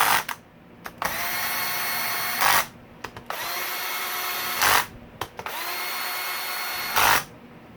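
An old Black & Decker power drill whirs in three sustained bursts, each spinning up to a steady high whine for a couple of seconds before cutting off, with short clicks and handling noises between runs, no voices.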